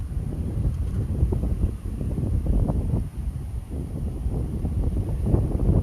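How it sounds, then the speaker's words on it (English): Strong wind blowing across a mountainside during a wildfire near Bountiful, Utah, a loud continuous roaring rush with gusty buffeting on the microphone and no talking. "the wind is just kicking it up"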